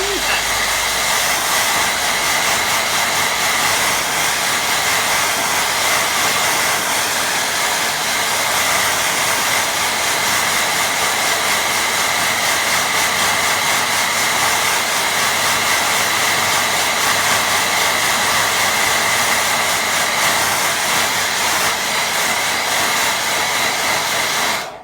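A hair dryer blowing on a watercolour painting of lake reflections, a loud, steady, close whooshing roar that holds unbroken until it switches off at the end.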